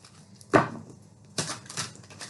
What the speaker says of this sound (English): Oh, you want me to shuffle it? Okay, let me shuffle.